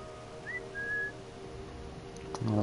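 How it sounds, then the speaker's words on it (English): Whistle sounds from the game Assassin's Creed Syndicate, set in the City of London: a short rising tone followed by a longer steady whistle, over a constant low game ambience with a brief louder burst at the end. "Another whistle."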